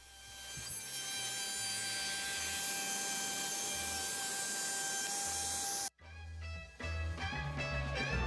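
A router cuts wood for a narrowboat's porthole lining, giving a loud, steady high whine with a grinding edge for about six seconds. It then stops abruptly and other sounds follow.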